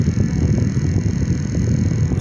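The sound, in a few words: HAS portable electric desk fan running at high speed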